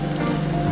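Scrambled eggs sizzling in melted butter in a pan, a steady close crackle with no talking over it.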